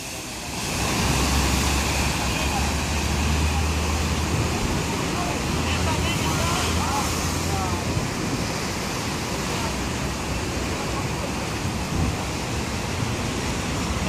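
Rough, dangerous sea surf rolls as a loud, continuous roar of crashing waves, with a broad wash of noise and occasional surges, steady from start to finish.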